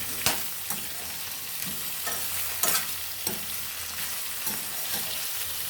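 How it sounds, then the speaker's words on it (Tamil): Onions being sautéed in a pan for onion thokku, with a steady sizzle and several sharp scrape-and-stir strokes spaced through the sound, close and with no voices. "அந்த அளவுக்கு நம்ம நல்லா வதக்கணும் இந்த வெங்காயத்தை"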